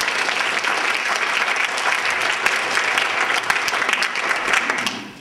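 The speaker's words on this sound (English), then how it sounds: "A little round of applause for Tom." A church audience at a debate on God and morality gives a short round of applause for a guest named Tom. The dense, even clapping holds for about five seconds, then begins to fade.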